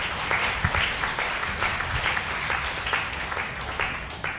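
An audience at a church sermon claps in sustained applause, a dense, even wash of many hands that holds steady for several seconds with no voices over it.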